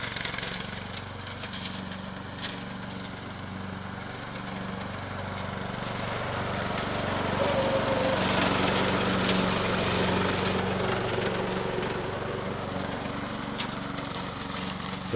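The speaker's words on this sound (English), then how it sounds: "using the ride-on mower that I pinched from him to keep the weeds down" A ride-on lawn mower, recently repaired with new spindles, runs steadily while cutting weeds and grass, its engine droning continuously and swelling slightly louder midway, with no voices.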